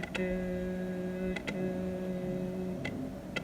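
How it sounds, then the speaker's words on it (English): A voice hums a steady low note into a homemade wax paper kazoo, giving a buzzy, nasal drone with short breaks and small clicks, and a slight pitch change near the end. "we're going to hum into it, or we're gonna say like do, do, do in a lower tone, and that's gonna create that classical kazoo sound"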